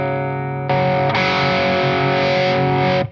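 Electric guitar on the bridge pickup through a Warm Audio Centavo overdrive pedal: a sustained, gritty overdriven chord, then a louder, brighter strum that rings out for a few seconds, close and alone with no talking.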